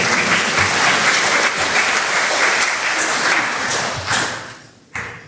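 A church congregation applauds after an Easter hymn, loud sustained dense clapping that thins and fades, then a brief final burst.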